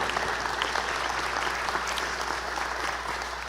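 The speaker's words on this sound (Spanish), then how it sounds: "quiero que le demos un aplauso a la distancia a Valeria Coronel" An audience gives steady applause for Valeria Coronel at a Quito political team presentation, a continuous wash of clapping that holds even and fairly full, tapering slightly at the end over a low hum.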